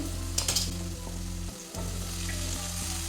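Drumsticks and ground spice paste fry in a pan with a dense, close sizzle over a low background hum, briefly dipping mid-way before resuming.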